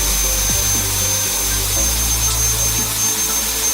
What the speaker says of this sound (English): you can see that the fan is so strong that it's blowing the ball so high up